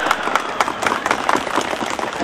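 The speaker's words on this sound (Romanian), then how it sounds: "Da, și aplauze merită, în adevăr." A crowd at a Union Day celebration in Romania applauds a folk band, a short burst of brisk, dense clapping with distinct individual claps, close and loud.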